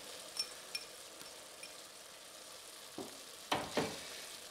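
Diced garlic hits hot oil in a pot, a faint steady sizzle with a few light clinks, then louder crackling bursts and stirring toward the end.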